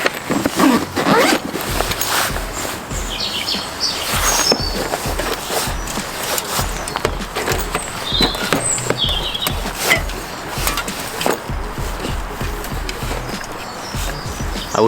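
Zipper on a tank bag fitted to a KTM 890 Adventure motorcycle being opened, with rapid scratchy zipping bursts and handling rustles up close, continuous and loud with no talking.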